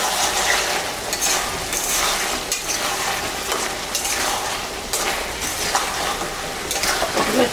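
Fish fries in a pan of potol lata and brinjal chorchori, giving a dense, loud, continuous sizzle. Steady stirring scrapes and clatter run through it up close, and there is no speech.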